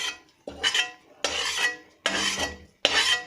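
Roasted poppy seeds are stirred in a pan, five rhythmic gritty scraping strokes of a spoon sweeping through the dry seeds, close and fairly loud with short pauses between them.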